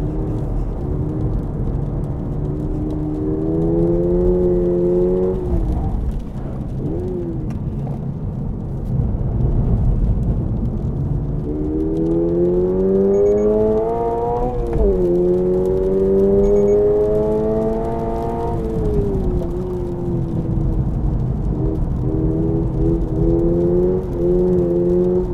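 A Toyota 86 (ZN6) with TRD parts hums steadily while driving, its pitch rising and falling with gear changes and acceleration, close and continuous throughout.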